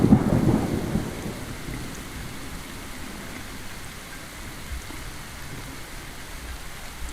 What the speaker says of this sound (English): it's raining with rumbles of thunder